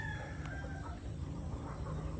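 Free-range backyard chickens clucking softly amid a steady, noisy outdoor background, the fowl sounds faint and mid-distance.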